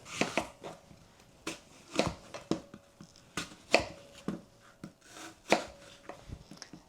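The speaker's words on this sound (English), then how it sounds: "all you have to do is cut them into chunks" A knife chops through an apple into chunks around the core, irregular sharp cutting taps on a board, close and fairly quiet, with no one speaking.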